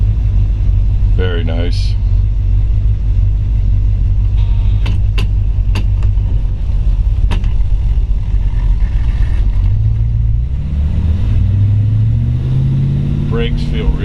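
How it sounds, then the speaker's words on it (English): A 1955 Chevrolet 210 resto-mod with a 350 V8 fires up and settles into a steady, deep idle rumble, with a few brief clicks and a short spoken remark over the engine. "I'll reach down here and fire it up. It fires up instantly."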